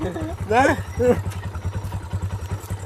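A motorcycle engine idles with a steady, rhythmic chug throughout, close by, while a voice talks over it at the start.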